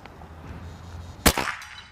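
A Kral Puncher Mortal PCP air rifle with a synthetic stock fires an 18 grain slug in a single sharp, loud crack, followed by a short ringing decay.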